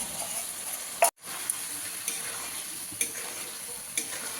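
Taro pieces fry with spice paste in a pan, giving a continuous sizzle with a short splash-like burst and brief pause near the start, then regular light stirring knocks about once a second; nobody speaks.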